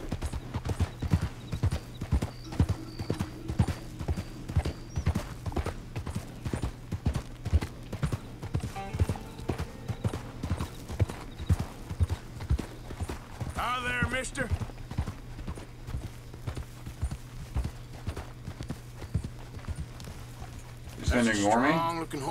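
Horse hooves clip-clopping in the video game Red Dead Redemption 2, a steady, even rhythm of hoofbeats running throughout at moderate volume, with a short whinny near the end and someone talking over it.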